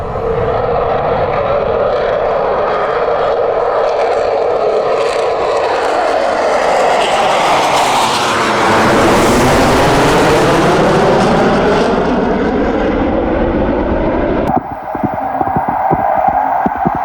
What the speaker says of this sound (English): They appear to be Delta winged, and that would usually be the Eurofighter these days.